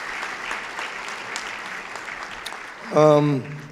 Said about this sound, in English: And I think Doug deserves a round of applause for what he has did for Knoxville Raceway in general.